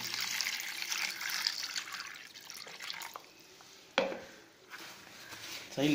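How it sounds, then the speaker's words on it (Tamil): One liter of water poured into the side of a container for a homemade ginger pest-control solution, heard as a soft, steady splashing pour with a brief clunk near the end. "இப்போ இந்த 1 லிட்டர் தண்ணி இருக்குது பார்த்தீங்களா, இதை சைடில் ஊற்றி விடுங்க"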